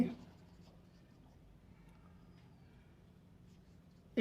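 Marker or chalk scratches softly on a board during a math lecture on real analysis, faint and intermittent, with a lecturer's voice briefly at the start and again at the end.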